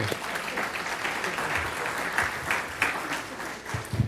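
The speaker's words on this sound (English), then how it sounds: "Let's give her a round of applause." An audience at a city event applauds the mayor's wife, a steady wash of many hands clapping at moderate distance, with a few louder claps and faint voices mixed in.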